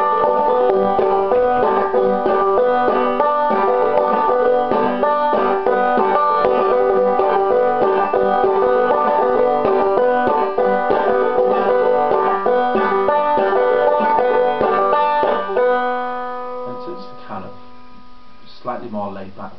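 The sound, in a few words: banjo strumming pattern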